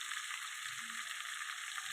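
Steady sizzling of tomatoes and green chilies sautéing in hot oil, a close, continuous crackle with a brief soft scrape of stirring.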